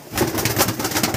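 Pigeons offered for sale, including Kaldum and Andara breeds, coo and flutter in a brief burst of soft repeated calls, close by and without talk.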